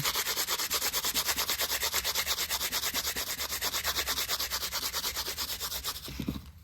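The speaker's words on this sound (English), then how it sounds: "I'm rubbing them really hard with the newspaper now." Newspaper is rubbed hard across freshly grouted mosaic coasters in quick, even back-and-forth strokes, a steady rhythmic scratchy swish heard up close, stopping just before the end.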